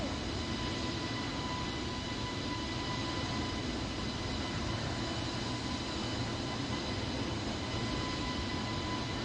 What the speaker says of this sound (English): We're doing a short field takeoff.